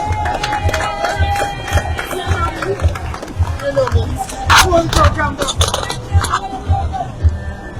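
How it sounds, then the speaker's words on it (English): A crowd at an outdoor citizens' march cheers and claps, loose bursts of shouting and whoops over rhythmic thumping, with voices and babble mixed throughout. "Let me get everyone applause to Mr. Manners."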